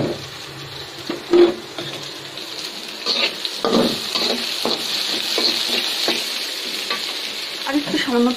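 Bottle gourd greens fry in hot oil with a steady sizzle, while a spatula scrapes and stirs through them in repeated close strokes and scattered clinks.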